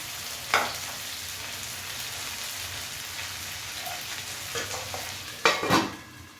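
Small anchovy pieces fry on a flat tawa with a steady, close sizzle, broken by a few louder crackling bursts as pieces are placed. No voices.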